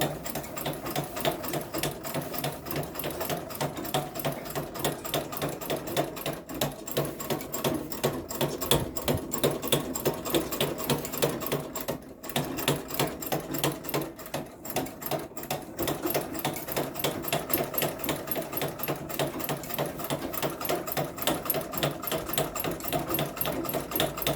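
An Elgin treadle sewing machine stitches in a fast, steady mechanical clatter of needle strokes, close and continuous, with brief slowdowns midway and no talking.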